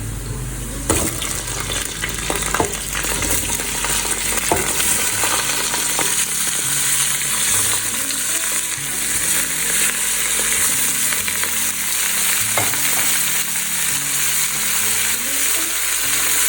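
Meat sizzles loudly in a pot with browned onions for a bottle gourd (lauki) and mutton curry, a continuous close hiss of frying broken by occasional stirring scrapes and clinks.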